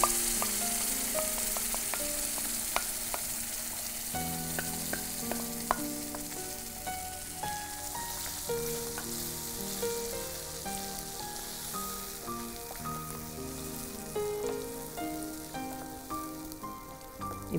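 Garlic sautéing in oil, ahead of adding tomato puree: a steady, close sizzle and crackle of frying, with light stirring clinks and scrapes scattered through it and no talking.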